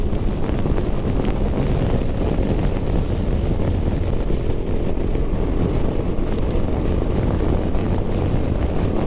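A BMW motorcycle and a Scrambler 400 riding on a road, heard as a constant loud rumble of engine and wind roar, steady throughout with no talk.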